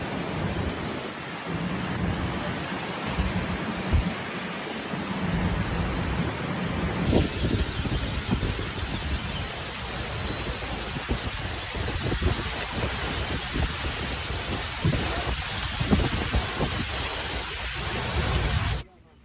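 Heavy rain pours down during a typhoon in Shanghai, a loud, steady roar with rumbling low thunder throughout and a sharp crack partway through. A voice is heard briefly.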